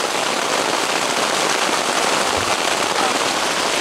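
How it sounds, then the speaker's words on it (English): Heavy rain pouring down on a campsite in Montreat, North Carolina, a dense, loud, continuous hiss of drops hitting surfaces nearby. "Yeah, it is raining pretty hard."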